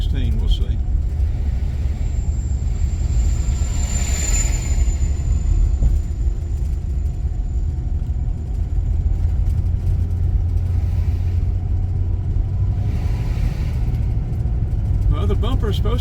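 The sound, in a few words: car driving on a dirt road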